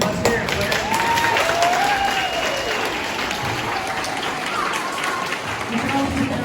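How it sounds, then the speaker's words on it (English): Guests at an Ice Devils hockey team awards banquet applaud the players, a steady, fairly close crackle of many hands lasting several seconds, with some cheering and voices mixed in. "Give them a big round of applause, guys."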